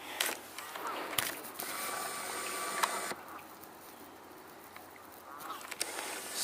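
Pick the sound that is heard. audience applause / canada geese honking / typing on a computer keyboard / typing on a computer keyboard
canada geese honking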